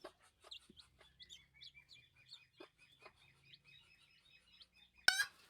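A bantam hen makes soft, scattered clucks and chirps up close, faint and irregular, and a sudden sharp rustle comes near the end.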